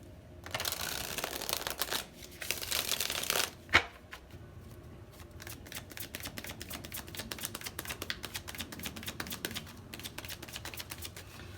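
Tarot cards are shuffled close up: bursts of riffling and rapid papery flicks, then a sharp tap and a long run of quick fluttering clicks, with no voices.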